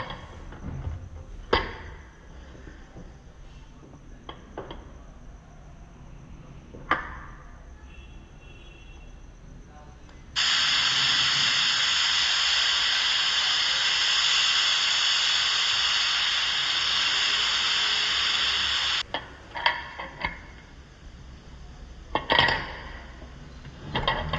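A single pressure cooker whistle sounds while cooking fodnicha bhat, tempered rice with salt and little water: a loud, steady, hissing steam release lasting about eight seconds, close by, framed by quieter kitchen clinks before and after.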